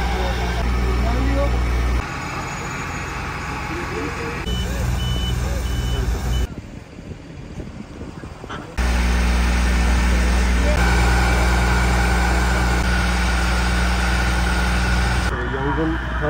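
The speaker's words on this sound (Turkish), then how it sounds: "Yangının önünü kesebilmek için dozerlerimiz burada çalışma yapıyorlar." Bulldozers work a fire line during a forest fire on the Bilecik–Bursa border, giving a steady, loud heavy-engine roar with repeating reversing beeps. The roar dips briefly and then returns at full strength.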